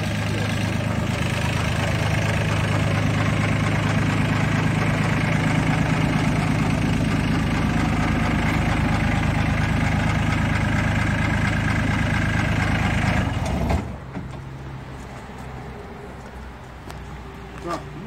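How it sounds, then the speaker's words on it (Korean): A Daedong engine in a small handmade mini fire truck idles steadily and loudly for about thirteen seconds with a low, even rumble, then drops away to a quieter background hum. "제가 이제 시동을 한번 해가지고 또 한번 보도록 하겠습니다"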